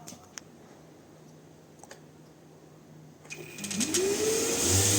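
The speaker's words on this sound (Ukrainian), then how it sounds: "Шліфувалку під'єдную до пилососа. В розетку включаю і починаю працювати." A wood sander hooked up to a vacuum cleaner for refinishing a terrace is switched on after a few clicks and quiet handling, its whir spinning up and rising into a loud, steady roar.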